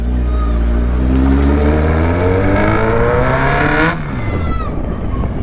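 A motorbike with no exhaust silencer revs loudly up close, rising in a long sustained climb before the pitch drops back as the throttle eases, with no voices over it.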